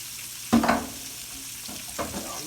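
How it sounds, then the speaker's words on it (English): Onions for onion gravy go into a hot pan with a sudden burst of sizzle and a clatter, then fade into a quieter crackle with another brief stir. "Now, we're going to throw our onions in here now."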